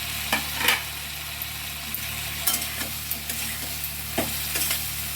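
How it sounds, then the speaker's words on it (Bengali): Eggplant pieces are stirred into sizzling spice masala in a pan, with steady frying hiss and a series of sharp scraping spoon strokes at irregular intervals, close up and with no talking. "মশলা ভালো করে কষানো হয়ে গেছে, এরপর আমি বেগুনগুলো মিশিয়ে দেব।"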